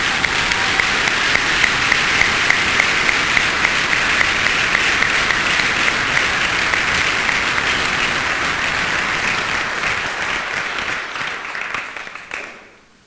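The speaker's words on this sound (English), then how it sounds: "So please, another round of applause for Ms. White and the Hack family." Loud, sustained applause from an audience at a middle college commencement ceremony, dense and steady for about twelve seconds before quickly fading out.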